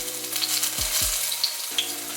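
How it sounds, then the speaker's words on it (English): Mini banana fritters frying in oil, a steady close sizzle and crackle of hot fat, with a couple of soft low thumps as batter goes in, and no talking. "So we're frying the first one"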